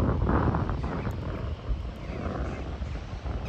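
Steady low rumbling wind buffets the microphone outdoors on the Cornish coastal path near Botallack Mines, a continuous gusty roar with no clear voices.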